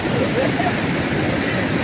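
Water pours down the rock at the Vadattupara waterfall, a loud, dense, continuous rushing roar that fills the whole moment without pause.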